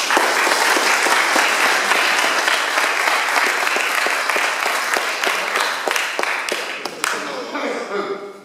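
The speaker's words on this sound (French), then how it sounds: "On peut l'applaudir." Sustained applause fills a hall at a French Legion of Honour award ceremony, a dense crowd clapping at full strength before gradually thinning and fading out toward the end, with some voices mixed in.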